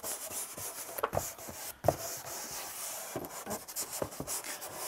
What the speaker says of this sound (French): On entend moins la griche avec les doigts qu'avec le tuyau, l'isolant à tuyau.